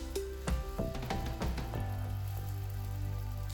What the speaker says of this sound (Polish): placki zawsze wykładamy na bardzo dobrze rozgrzaną patelnię